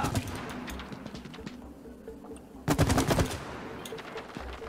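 Rapid automatic gunfire from a weapon in the co-op video game It Takes Two, with a loud dense burst of shots in the middle over continuous game sound effects.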